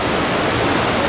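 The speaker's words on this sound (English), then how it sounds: "on the way to our trek, there is a beautiful fall, as you can see behind me" Waterfall on the trek to Kheerganga, a steady, loud broadband roar of heavy falling water close by, continuous and alone with no talk.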